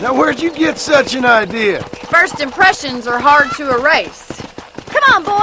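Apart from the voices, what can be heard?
None of the usual background noises is heard.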